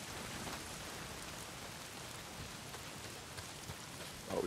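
Steady heavy rain pouring in the Days Gone video game, a dense even hiss of falling water filling the scene without a break, with no voices over it.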